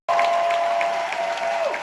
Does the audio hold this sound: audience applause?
yes